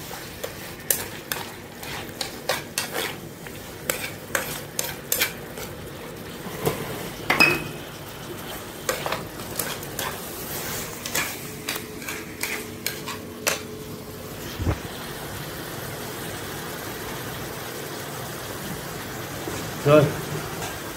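A spoon or spatula stirs food in a cooking pot while seasoning goes into a broth, giving scattered scraping clinks and light sizzling, moderately close, with speech and kitchen sounds around it.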